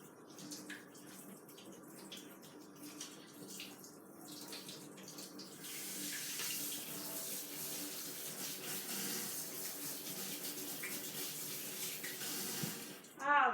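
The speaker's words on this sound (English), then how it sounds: "Let me wash my hands real quick" Tap water runs steadily into a kitchen sink during hand washing, the broadband rush growing louder about halfway through and continuing under occasional background sounds before ending with a brief bump.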